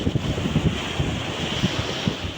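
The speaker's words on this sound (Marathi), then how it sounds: "आज आपण आलो आहे अलिबागमधील एका शांत अशा समुद्रकिनाऱ्यावर" Sea waves wash in on Thal beach in Alibag with soft, rhythmic surges under a steady rush of wind across the microphone; no one speaks.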